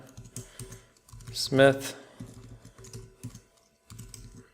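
Clicking keystrokes on a computer keyboard while filling out a web form, bursts of close, quick taps separated by short pauses, with someone speaking briefly in the middle.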